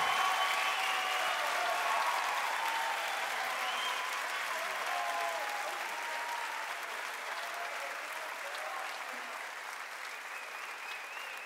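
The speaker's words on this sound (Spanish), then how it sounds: "Fuerte aplauso para los muchachos." Sustained audience applause at an MTV Unplugged concert, a dense wash of many hands with scattered whistles and cheers that slowly fades over about eleven seconds.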